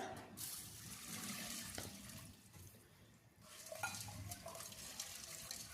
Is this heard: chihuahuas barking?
no